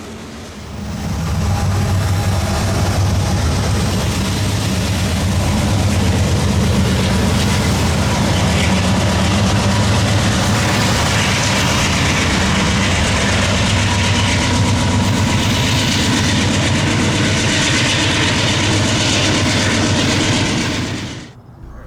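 A long coal train from Signal Peak Mine, Montana, bound for Delta, British Columbia, rumbles past close by in Western Washington, its loud, continuous roar and clattering wheels holding steady for about twenty seconds before fading.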